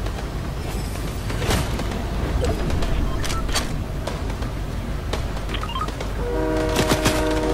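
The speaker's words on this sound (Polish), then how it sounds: "Chyba zaraz pociąg będzie jechać." A train rumbles past steadily with clattering and a horn-like tone near the end, game audio from Fortnite with a constant mechanical drone.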